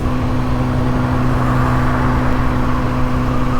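Steady roar of road traffic on a busy street, car engines rumbling continuously with a whirring hum, loud and close without pause.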